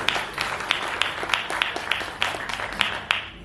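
Applause from an event audience honouring an anchor at an awards ceremony: dense, steady clapping with a few sharper claps standing out, moderately loud and sustained for a few seconds with no one speaking.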